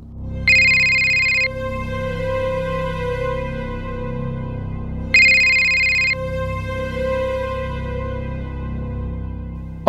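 An electronic phone ringtone sounds twice in a repeating pattern, a bright chiming burst each time followed by a lingering tone, clear and close.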